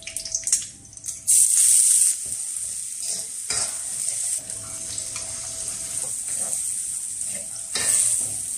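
Food sizzles loudly in a hot pan with a bright, steady frying hiss, broken by scraping stirs and brief clatters of a utensil, heard close up in a home kitchen without talk.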